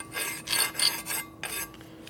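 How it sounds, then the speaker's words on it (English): Hand file rasping across a 1978 Harley-Davidson shovelhead cylinder head during porting, a series of four or five rough scraping strokes in a steady rhythm, close and fairly loud with short pauses between. "File feels like it's really digging in heavy."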